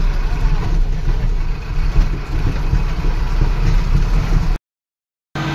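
A heavy tractor engine rumbles steadily at idle, low and close, then cuts out briefly to silence before resuming.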